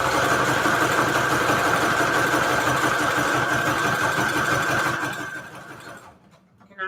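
A sewing machine stitches paper strips with purple thread, running loud and steady for about five seconds before the motor winds down and stops, then a faint click.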